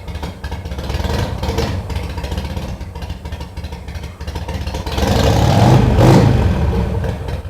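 A 2006 Harley-Davidson Sportster runs nearby with a deep, loping idle that swells into a louder rev partway through, then holds a rumbling throttle.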